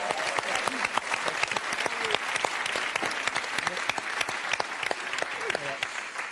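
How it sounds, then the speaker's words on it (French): Studio audience applause rolls through a French game show, dense and even clapping that holds steady without pause. "le sacrifice de Samuel mérite des applaudissements"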